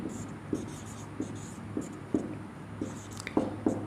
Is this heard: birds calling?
no